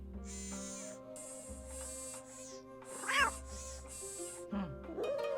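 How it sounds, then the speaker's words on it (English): Robotic cat from a Nancy Drew video game giving a few short, chirpy electronic meows over a quiet game background with soft chimes, close and fairly faint, without talk. "Who's my favorite robotic cat?"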